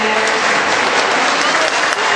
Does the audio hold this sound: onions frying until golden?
no